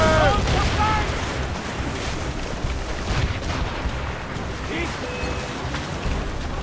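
Naval battle in Assassin's Creed Rogue: booming ship cannon fire and heavy rumbling over sea and wind noise, with a shouted voice early on and scattered debris cracks.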